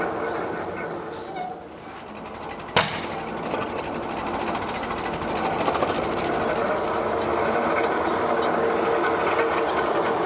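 A 1938 Twin City Model KTA tractor engine runs roughly and steadily at close range, with one sharp backfire pop early on amid the continuous chugging clatter.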